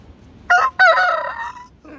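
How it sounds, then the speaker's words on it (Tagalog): A rooster kept at a home crows loudly and close by, two sharp rising bursts followed by a long drawn-out call, with nobody talking. "Tilaok ng tilaok."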